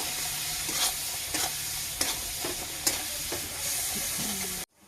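Ground cumin, chili colour and salt fry in oil in a pan, a loud continuous sizzle broken by repeated spatula scrapes and clinks, ending abruptly.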